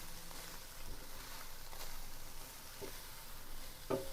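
Ground hamburger meat stirred in a pan for a cheesy taco pasta bake, with a steady low sizzle, soft scraping and a light clack near the end.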